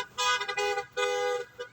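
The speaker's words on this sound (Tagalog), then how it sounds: "May busina pa." A car horn honks in two sustained blasts, the second slightly longer, followed by a brief short toot, fairly close and loud.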